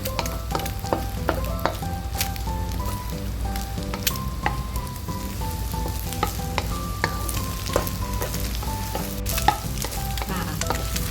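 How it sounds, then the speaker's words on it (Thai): Eggs sizzle in a pan while a spatula scrapes and stirs them, for fried rice with Chinese sausage; constant close frying hiss with repeated scraping strokes and clinks, no talk. "เราก็จะใช้ตะหลิว ยียีไข่นะคะ เพื่อจะให้สุกเร็วขึ้นค่ะ"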